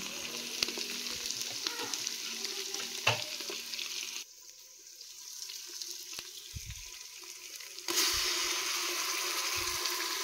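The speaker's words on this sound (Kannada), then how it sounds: "ನೆಕ್ಸ್ಟ್ ಶುಂಠಿ ಬೆಳ್ಳುಳ್ಳಿ ಪೇಸ್ಟ್ ಹಾಕ್ತೀನಿ." Ginger garlic paste frying in a pan for chicken biryani, a loud steady sizzle that drops away for a few seconds, then returns, with a few soft knocks.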